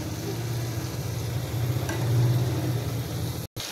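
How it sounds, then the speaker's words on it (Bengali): Small guchi (gutum) fish sauté in a pan with a constant close sizzle and light stirring, under a low rumbling hum and a brief sharp dropout near the end. "মাছগুলো একটু কষিয়ে তারপরে বাদবাকি উপকরণগুলো দিয়ে দেব।"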